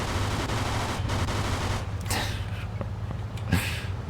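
Bursts of rapid gunfire in the video game Mafia 2 crackle over a dense, steady rumble, with a few sharper cracks standing out near the end; no one speaks.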